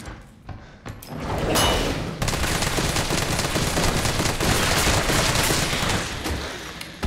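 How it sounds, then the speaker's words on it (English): Assault rifle fire in a Resident Evil 3 Remake hospital hallway, aimed at a hunter. A few opening shots lead into a sustained dense burst of automatic gunfire that stays loud and continuous for several seconds. "then take it out with the assault rifle"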